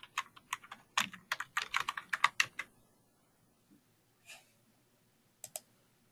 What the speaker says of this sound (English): you can do that by typing it in